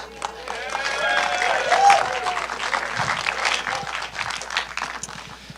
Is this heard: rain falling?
no